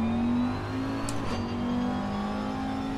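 Race car engine on a hot lap at Watkins Glen in Assetto Corsa Competizione, a steady sustained drone holding near constant pitch with a faint shift partway through, heard alone.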